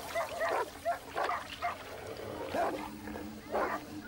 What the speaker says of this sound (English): With sharp claws and powerful teeth, the dogs are formidable enemies.